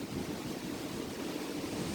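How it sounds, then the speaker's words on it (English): A steady roar of strong outdoor wind gusting near 60 mph, a broad continuous rushing noise buffeting the microphone with no voices. "Big gust coming in. I can hear it."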